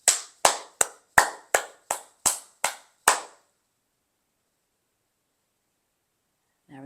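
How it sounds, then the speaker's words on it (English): Nine sharp, evenly spaced hand claps during a qigong warm-up, crisp and close, followed by several seconds of silence before a brief faint voice at the very end. "We're going to clap 9 times."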